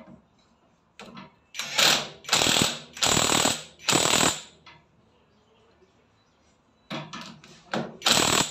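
A ratchet tightens a bolt while a kick starter is fitted to a Yamaha motor, giving close, loud bursts of rapid clicking, several in a row, then a pause before more quick bursts.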